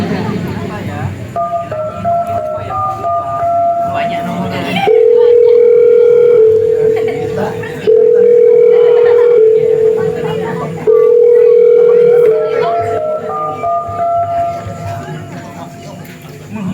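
A mobile phone call rings out during a stage drama for Hari Santri 2025 as a mother phones an investor: three long, loud, steady tone bursts sound over a murmuring background, with voices before and after.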